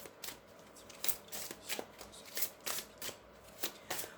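Tarot cards being shuffled by hand, producing a steady run of soft riffling and light papery slaps at a fairly even rhythm, close but quiet, with no one talking.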